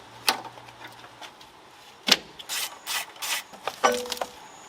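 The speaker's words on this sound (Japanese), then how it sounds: "エアコンのホースも切って外しちゃいます。" Air conditioning hoses being cut from a neglected Mazda RX-7 FD3S during teardown, heard as a few separate close rasping, snipping and rubbing bursts with short pauses between them, no talk.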